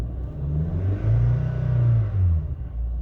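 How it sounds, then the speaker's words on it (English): A Kia Sorento with about 124,000 miles and a P0336 fault code revs up from idle, the engine note rising and holding in a steady low rumble, close and loud, with no talking over it. "Let's see what happens when we try to raise RPM."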